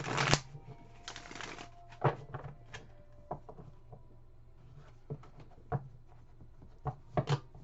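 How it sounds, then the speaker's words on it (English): Tarot cards riffle and snap in quick bursts, followed by scattered soft taps and flicks at close range, with quiet gaps between them. "I always do a pre-shuffle"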